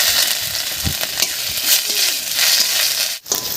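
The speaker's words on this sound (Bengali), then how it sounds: "এবারে তেলের মধ্যে দেব কয়েকটা শুকনো লঙ্কা আর লঙ্কাগুলোকে মাঝখানে আমি ভাগ করে দিয়েছি দেবো হাফ চামচ মতো মৌরি হাফ চামচ মতো গোটা জিরা দুটো তেজপাতা" Split dry red chillies, fennel seeds, whole cumin, bay leaves and chopped ginger fry in hot oil as a tempering for a rustic mashkalai dal. A loud, close, continuous crackling sizzle comes with occasional stirring clicks.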